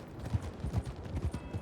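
Horse hooves clip-clopping in a ranch-themed video game, a quick steady run of muffled hoof beats at close range lasting under two seconds, with no voices over them.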